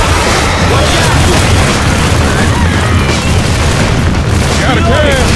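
A grenade blast booms in Left 4 Dead 2 gameplay, a loud, dense rumble that fills the whole stretch with heavy low-end noise and debris-like crackle.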